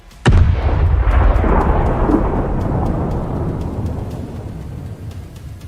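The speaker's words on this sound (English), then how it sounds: "A precise hit turns Russian air defense into fireworks." A sudden heavy boom hits, followed by a long rolling rumble that slowly fades, with faint crackles scattered through the decay, like a distant large explosion of a missile strike on an air defense system.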